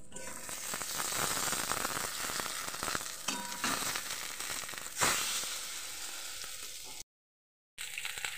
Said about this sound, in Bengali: এখানে পাট শাকের বড়া করে নিচ্ছি